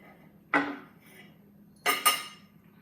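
A knife or utensil cuts a smash burger in half, with two short, sharp metallic scrapes against a plate or pan about a second and a half apart, close and clear.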